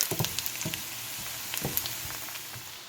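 Onions frying in a pot as the base for zucchini soup give off a steady close sizzle, dotted with scattered pops and crackles, with no talking.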